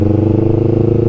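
A two-cylinder Yamaha R3 motorcycle fitted with a full Akrapovic exhaust holds a steady, throbbing rev with a pulsing rhythm, heard up close and on its own.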